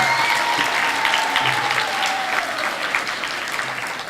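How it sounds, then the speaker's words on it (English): An audience at a 2015 awards ceremony gives a round of applause, a dense, steady rush of clapping with some whooping and a faint sustained tone, continuous and moderately loud. "I think he deserves a lusty round of applause"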